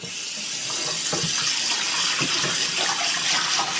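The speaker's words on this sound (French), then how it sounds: "Je vais mettre de l'eau chaude pour que ça part." Hot water runs steadily from a kitchen tap during a session of frying honey and orange-blossom bugnes, a constant close hiss and splash that swells slightly and holds without a break.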